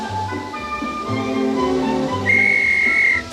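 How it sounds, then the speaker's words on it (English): A steam locomotive whistle gives one sustained, steady high tone near the end, loud and close over the engine's rumbling background and intermittent low hissing. "Now blow the whistle."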